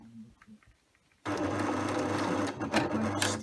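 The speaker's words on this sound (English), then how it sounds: "So I'm going to sew a 15mm seam" Husqvarna Emerald 118 sewing machine stitching a 15mm seam in lightweight polyester cotton, starting abruptly after a short quiet moment and then running steadily with a loud, close, continuous motor whir and rapid needle rhythm.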